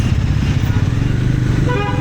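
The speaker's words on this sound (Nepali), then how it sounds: "हाम्रो चाहिँ आज 3टा इन्फिल्ड, 2टा बाइक, पल्सर बाइक छ हो, एलिस," A loud, continuous low engine rumble of several motorcycles, including Royal Enfields and Pulsars, riding close by on a mountain road near Darjeeling, with a faint horn-like tone near the end.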